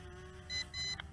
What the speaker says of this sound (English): Okay, double beeps, and we are in speed number 2.